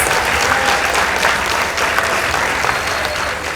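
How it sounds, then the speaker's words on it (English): Audience applause for a school debate team after a close Kathiani Boys versus Masinga Girls contest, a dense, steady wash of many hands clapping loudly throughout with no pause. "Let's give them a round of applause"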